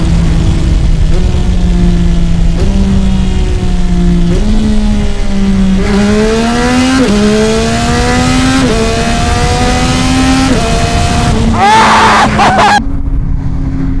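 A 2025 Yamaha R9 motorcycle with a Yoshimura full-system exhaust and flashed ECU roars close and loud, climbing through several gears with brief dips at each shift before easing off, and a voice shouts briefly near the end.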